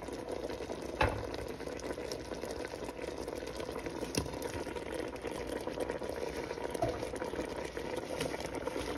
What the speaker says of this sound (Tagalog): Kumulo na siya.